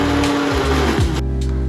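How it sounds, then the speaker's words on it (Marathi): Kitchen mixer grinder whirring at steady high speed as it grinds soaked lentils for medu vada, a loud continuous motor drone that dips briefly as the load shifts, with no voices. "मी आता मिक्सरमधून डाळ चांगली बारीक वाटून घेणार आहे."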